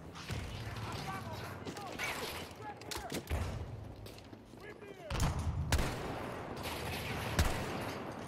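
Rapid bursts of automatic gunfire and scattered shots crackle through a Battlefield 2042 Breakthrough battle, with mechanical clatter and creaks mixed in. Voices call out over the steady fighting.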